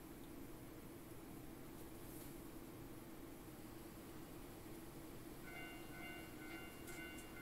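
Steady rumbling hum of a train waiting at a station in the horror video game Teke Teke: Moonlit Dread, constant and loud throughout, with faint tonal chimes joining near the end.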